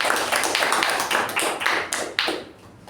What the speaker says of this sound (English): Let's give him a round of applause for doing that.